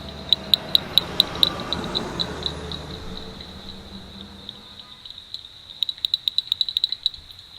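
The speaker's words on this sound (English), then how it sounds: "Every night, the male frogs have begun to call." Male Xmas frogs call at night in Shillong, Meghalaya, during the monsoon, a series of sharp, high, rapid clicking pulses in bursts, close and clear over a quiet night background.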